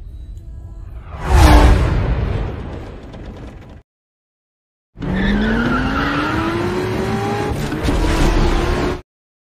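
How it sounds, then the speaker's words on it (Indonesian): A car speeds past on a road at rocket-like speed in a film scene: a loud whooshing pass with screeching tires, a sudden cut to silence, then a rising engine roar that holds steady before stopping abruptly. "seekor mobil dengan kecepatan roket intro milik si John melintasi jalan tersebut"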